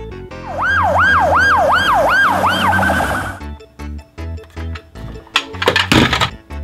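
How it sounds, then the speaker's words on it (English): A loud wailing siren sweeps rapidly up and down several times, then stops, followed by scattered knocks and a brief crashing clatter. "Red Fire Engine"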